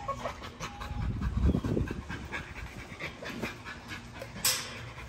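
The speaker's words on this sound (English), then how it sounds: "Always make sure your dogs are stretching to eat." Dogs pant and munch nearby while eating from raised bowls, with soft rhythmic breathing and a burst of chewing and scuffling, plus a brief sharp noise near the end.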